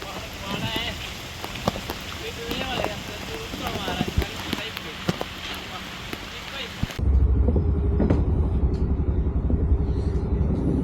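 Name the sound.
monsoon rain falling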